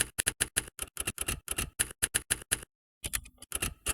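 Rapid keystrokes on a computer keyboard as a line of text is typed into a configuration file on an Ubuntu server, a steady clatter of close clicks with a short pause before a final burst.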